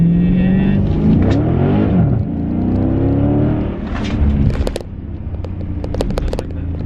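A Dodge Challenger or Charger Scat Pack or Hellcat accelerating hard in second gear, its engine note rising and rumbling loudly from inside, with people talking over the roar and a few sharp clicks near the end.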